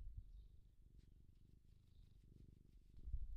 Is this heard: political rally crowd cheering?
no